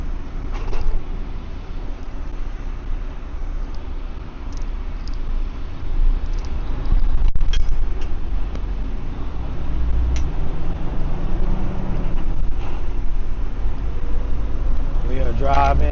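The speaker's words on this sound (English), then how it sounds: "We are driving a 2019 Freightliner Cascadia. 10-speed Eaton Detroit DD15 engine" A 2019 Freightliner Cascadia truck with a Detroit DD15 engine and 10-speed Eaton transmission drives along, a steady low cab rumble and road noise throughout with a few faint knocks.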